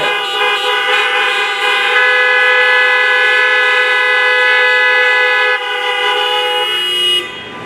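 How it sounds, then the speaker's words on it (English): Cars in the audience, including Buicks, Chevrolets and Hondas, honk together at a 2020 drive-in graduation, a loud, steady blend of horn tones lasting about seven seconds before cutting off abruptly. "Can we give another big honk of all the cars we have here?"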